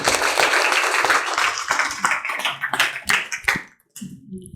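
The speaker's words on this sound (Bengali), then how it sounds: "তাই সমীশ্বরের জন্য একটা জোরে হাততালি" Students at a residential coaching centre give their teacher a loud round of applause, dense, close clapping that thins into a few scattered claps and then stops abruptly, followed by faint sounds.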